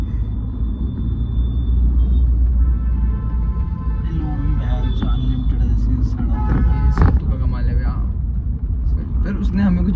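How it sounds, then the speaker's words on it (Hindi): A car rolls along slowly with a constant low engine and road rumble close by, while people talk loudly over it throughout. "अभी गाड़ी स्लो चल रही है"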